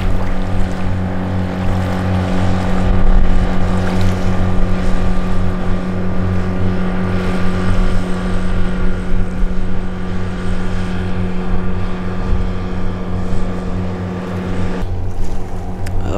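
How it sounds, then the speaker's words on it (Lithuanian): Several motorboats buzz on a lake, their engines droning as a loud, steady hum with a rough, throbbing edge that continues throughout with no talk. "Labas rytas burzgiantis kateriai"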